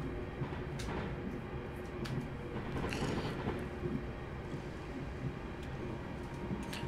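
A Class 350 electric train passes on the West Coast Main Line in the Trent Valley, heard as a continuous rolling rumble with faint rhythmic wheel clicks and a brief swell midway.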